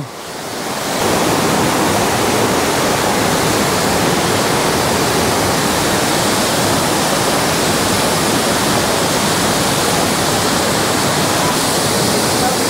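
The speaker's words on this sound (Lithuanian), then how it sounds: "Bet kiek aukštas krioklys." A tall waterfall on an ocean island crashes down nearby, sending up a loud, steady broadband roar that rises within the first second and then holds unbroken to the end.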